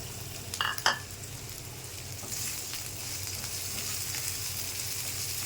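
Prawns and panch phoron frying in hot oil with onion and garlic, a steady low sizzle running throughout, with a couple of sharp clattering bursts near the start as the ingredients hit the pan or are stirred.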